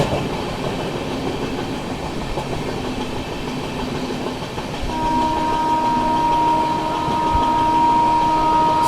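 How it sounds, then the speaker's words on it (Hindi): The 12313 Sealdah New Delhi Rajdhani Express rushes through Prayagraj Junction without stopping, a loud, steady rolling rumble of wheels and carriages, with a sustained horn tone entering midway and continuing to the end. "गजब की रफ्तार में स्किप करने जा रही है भाई अपनी शारदा राजधानी एक्सप्रेस।"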